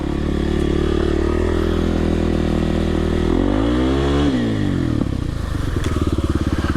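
Kawasaki KLX 300R dirt bike engine drones loud and steady while riding through woods, pitch dipping and rising with throttle changes and ending in a rapid, choppy putter near the end.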